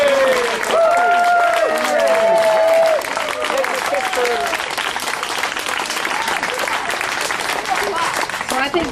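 Clapping fills a New Mexico political campaign rally for a lieutenant governor candidate, a sustained crowd ovation with voices calling and speaking over it near the start.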